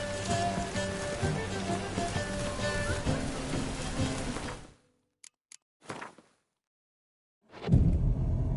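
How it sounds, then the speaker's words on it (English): Rain in a fantasy video game pours steadily with dense pattering under low rumbles, then cuts to near silence with a few brief clicks and knocks before a loud rumbling burst of sound returns. "Rain again. Damn mages."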